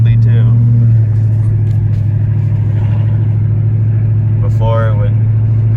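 A Dodge car, its transmission just repaired, drives and shifts gears. A loud, close, low engine drone drops in pitch about a second in as the gear changes, then holds steady, with a brief voice near the end.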